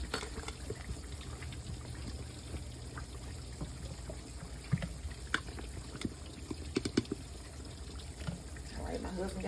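Cold water runs and splashes as it is poured into flour for tempura batter, a soft continuous trickle with faint voices talking quietly in the background.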